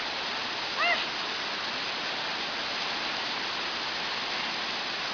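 A waterfall gives a steady, even rush of falling water for the whole stretch, with a brief voice heard once near the start.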